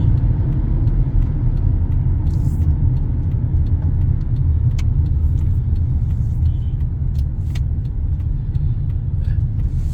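A car drives along a road through a U-turn, with a loud, steady engine and road rumble close up for the whole stretch and a few faint higher clicks and noises over it, and no talk.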